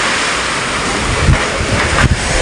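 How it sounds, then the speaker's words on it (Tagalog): Strong typhoon wind roars loud and steady against the microphone in a storm-damaged area, with gusty surges and buffeting, no voices. "Malamig ang simoy ng hangin."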